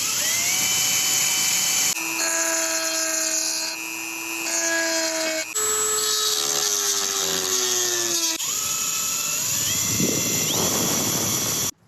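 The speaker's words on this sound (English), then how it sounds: "Now we just have to drill out these rivets to get the hinges out" A power drill whines steadily at high pitch while drilling out rivets on a T3 Westfalia cabinet door hinge, its tone shifting as the bit bites into metal, loud and continuous with brief changes in load.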